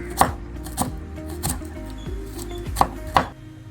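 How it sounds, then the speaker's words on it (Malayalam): A knife chopping small shallots lengthwise on a board, six or seven crisp, distinct cuts at uneven intervals over a few seconds, close and alone. "ഇതിനെല്ലാം നമുക്ക് ഇങ്ങനെ നീളത്തിൽ അരിഞ്ഞെടുക്കാം"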